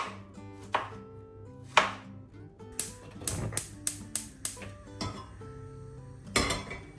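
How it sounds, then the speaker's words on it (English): Knife chopping strawberries on a board in quick sharp knocks, some spaced and some in a fast run, with light clinks of kitchenware behind. "what we just need to do is just to chop some strawberries."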